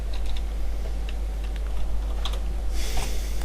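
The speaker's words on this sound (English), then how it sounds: "When I press my left mouse button, it gives a sound like when you press a button on your keyboard." Left mouse button clicks that sound like keyboard typing: a fast, irregular run of light plastic taps at close range over steady background hum, with a slightly louder burst near the end.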